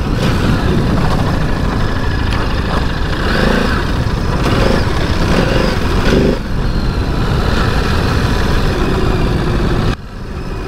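Ducati DesertX Rally or Royal Enfield Himalayan 450 Rally adventure motorcycle ridden off-road on a trail, its engine a loud, continuous close rumble with slight surges and dips, cutting briefly near the end.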